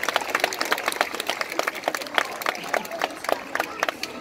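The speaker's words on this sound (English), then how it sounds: "You can give him a round of applause." An audience at a seal show in Sydney gives a round of applause, with scattered, moderately distant clapping and light crowd murmur continuing steadily.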